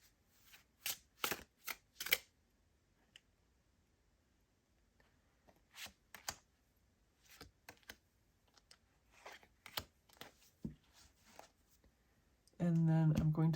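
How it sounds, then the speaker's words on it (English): A deck of tarot cards being shuffled and cards pulled out, scattered soft riffles and flicks close by, quiet and intermittent, ending in a louder steady burst. "I'm going to pull 3 cards from this deck."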